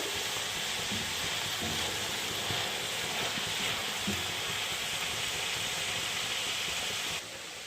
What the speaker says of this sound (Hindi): अब हम गाजर को कुछ मिनट के लिए यहाँ पर सॉटे कर लेंगे